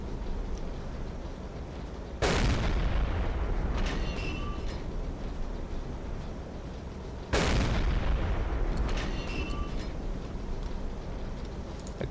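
A U-boat deck gun shelling a ship in Silent Hunter 3, two heavy booming shots several seconds apart, each followed by a long rumbling decay over steady sea and engine noise.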